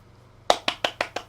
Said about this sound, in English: We went back to the clapping already